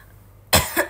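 A single close, sharp cough bursts out after a quiet moment, with a second smaller hack right behind it.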